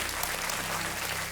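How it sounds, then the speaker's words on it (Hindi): Studio audience on a TV quiz show bursts into a short wash of applause, a dense, even roar of many hands heard briefly and fairly loud. "एक बार फिर अजय कुमार जी के लिए तालियां।"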